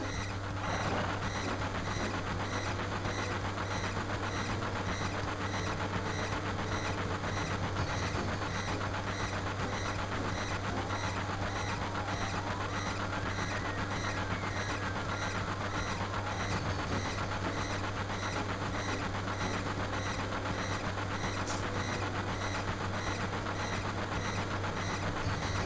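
A train rolls along steadily in the game Final Fantasy VII, a constant droning rumble with a low engine hum and faint rhythmic rail clatter that runs without a break for the whole stretch, with no talking over it.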